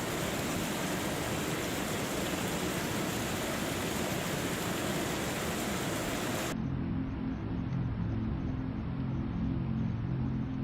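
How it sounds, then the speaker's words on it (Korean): A waterfall roars as a steady, broadband rush of falling water that fills the scene, then abruptly becomes duller and more muffled partway through, continuing without voices. "폭포로 보이는 곳 근처에 다다르게 되고"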